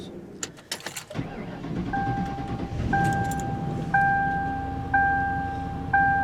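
A 2004 Mercury Grand Marquis with a suspect battery: keys jangle, then the starter cranks and the engine catches into a steady idle while a two-tone door chime repeats about once a second.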